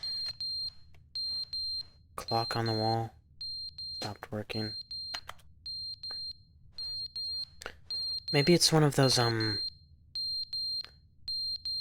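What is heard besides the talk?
fire alarm ringing in The Stanley Parable video game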